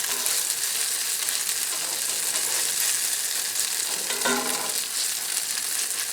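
Zucchini cooking in bacon grease in a pan on medium heat gives off a steady, even hiss of frying, close and unbroken, with one faint clink partway through and no one talking.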